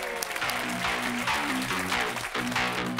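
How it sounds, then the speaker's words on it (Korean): A studio audience on a Korean television history program claps for a guest, a dense sustained round of applause layered over a tonal musical sting underneath. "이 부분에서 저를 위해서 한번 박수 한번 쳐 주세요."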